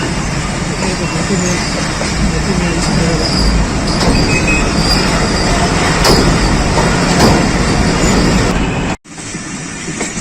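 The Pakistan Express train rumbles loudly and steadily into the Rawalpindi railway yard, wheels grinding and squealing on the rails, with a brief cut near the end before the noise resumes.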